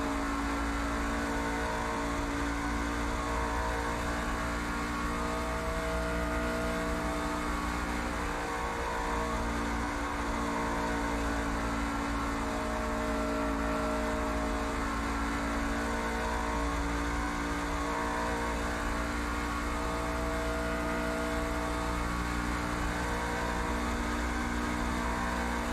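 Race truck engine in the iRacing truck series at Chicagoland, heard on board as a loud, continuous high drone held at steady speed for the whole lap, with no voices.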